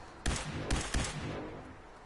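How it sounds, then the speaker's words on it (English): Laser sniper rifle firing in Fallout 4 during a Deathclaw encounter: three loud, sharp energy shots in quick succession, each followed by a ringing decay, with no voices. "Using my laser sniper rifle"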